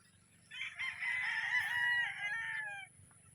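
An imported gamefowl rooster crowing at a breeding farm, one long loud drawn-out crow close by, rising then trailing off, over a low steady background hum.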